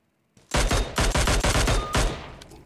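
An automatic gun in a shooter game fires several rapid, loud bursts close by, with short gaps between volleys and an echoing tail after the last.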